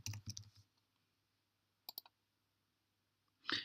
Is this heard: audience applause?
no